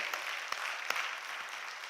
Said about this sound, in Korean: 은혜 주신 하나님께 영광의 박수, 영광의 박수.